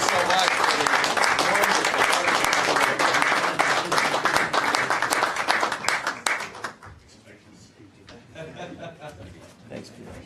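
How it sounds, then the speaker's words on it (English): Warm applause from a council meeting audience, with people chuckling, claps loudly for about six seconds and then fades, leaving quieter room noise and voices. "Let's give them all a round of applause."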